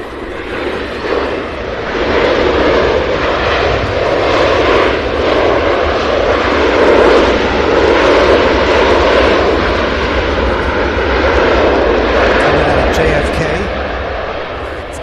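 A 39-year-old ABX Boeing 767-200 jet, first flown in 1984, roaring at an airport in Cincinnati, a loud sustained engine rumble that swells and slowly fades, with someone speaking over it.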